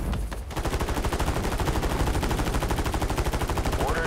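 Rapid automatic gunfire in a Call of Duty match, loud and steady with dense repeated bursts running for several seconds after a brief pause at the start.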